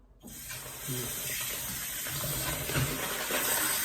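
Water pours from a tap in a steady, close rush for washing gold, beginning abruptly after a brief silence and continuing as a bright, even splashing hiss.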